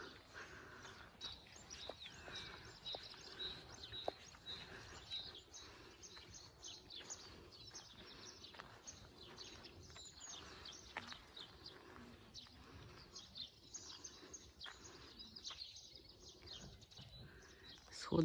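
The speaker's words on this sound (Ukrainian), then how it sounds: "поють пташки, співають" Birds singing outdoors at sunrise near a small Carpathian village by Synevyr, faint scattered chirps and calls over a soft steady background, no talking.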